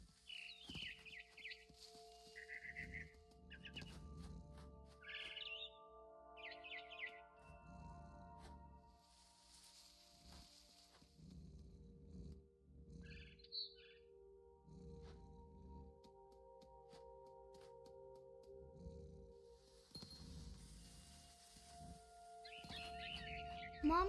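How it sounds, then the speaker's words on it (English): Barn swallow chirping in the game What Remains of Edith Finch: short, faint high chirps come in scattered bursts over quiet game ambience and soft, low rhythmic thuds. "Then I heard chirping outside my window. It was a barn swallow going back to her nest."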